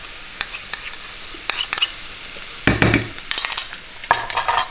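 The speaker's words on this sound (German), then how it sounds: "So, jetzt gebe ich meinen Tomatenmark dazu." Tomato paste being stirred into a frying pot for cabbage and beef borscht, with scraping spoon strokes against the pot in short bursts over a soft sizzle, close and moderately loud.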